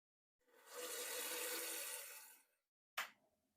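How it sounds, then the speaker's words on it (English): Boiling water poured into vegan gravy with Quorn pieces makes a close, steady splashing pour lasting about two seconds, then a short sharp clink. "And add the boiling water"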